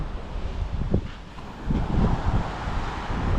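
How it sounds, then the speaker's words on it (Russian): Light wind on the Mediterranean coast, a soft continuous blustery rush with faint surf-like swells and low gusts buffeting the microphone throughout, no voices. "Есть небольшой ветерок"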